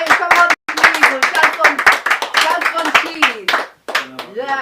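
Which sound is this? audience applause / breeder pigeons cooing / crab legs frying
audience applause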